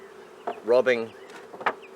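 Honeybees buzz around an open hive during a tropical beekeeping inspection: a close, swelling drone peaks briefly in the middle of the clip, with softer scattered buzzes before and after.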